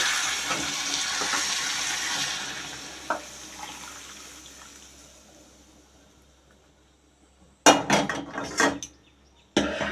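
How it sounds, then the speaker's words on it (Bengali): Hot water poured into a prawn and jackfruit curry in a pan, a hissing, bubbling wash at first that fades, then louder sizzling splashes and clatter near the end, close and without talk. "জলটা আমি একটু গরম করে নিয়েছি, এই জলটা তরকারির মধ্যে দিয়ে দেব।"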